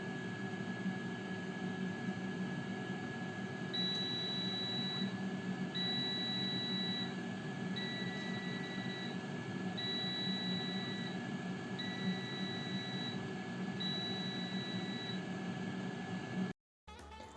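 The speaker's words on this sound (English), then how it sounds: "the air fryer gives off these beeping sounds to let you know that the cooking is completed" A Tower T17039 11L 5-in-1 air fryer signals the end of its cooking time with six evenly spaced beeps, each about a second long, over a constant appliance hum.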